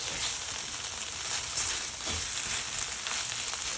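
Softened onions frying in a pan for Polish hunter's stew, a steady close sizzle with soft crackles running throughout, no voices.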